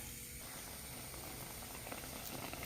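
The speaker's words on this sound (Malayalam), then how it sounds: "വെട്ടി തിളച്ചിട്ടുണ്ട് കേട്ടോ നമുക്കതിനകത്തേക്ക് മീൻ പറക്കിയിടാം" Water boils hard in a cooking pot for a kilimeen fish curry, giving a steady, continuous bubbling and rushing hiss that fills the whole stretch, close and even, with no voices.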